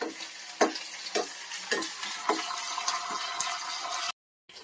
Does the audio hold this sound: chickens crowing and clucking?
no